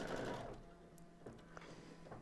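An embroidery machine stitches guideline outlines for an in-the-hoop dog softie, giving a quiet, rapid mechanical chatter that comes in short bursts with small pauses.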